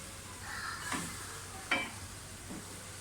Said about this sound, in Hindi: 5 मिनट हो गए हमें दाल भूनते हुए।